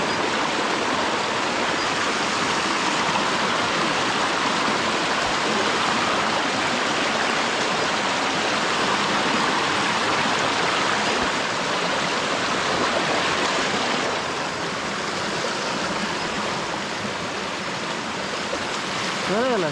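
A waterfall roars steadily and loudly throughout, a dense unbroken rush of falling water with no pauses.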